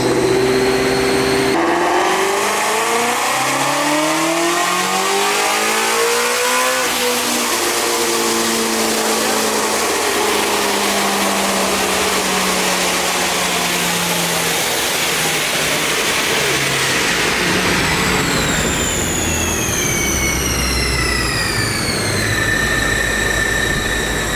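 Supercharged Ford Mustang GT350 V8 on a dyno revs hard through rising gears, a loud sustained roar climbing and shifting with a high supercharger whine building toward the end, no talk.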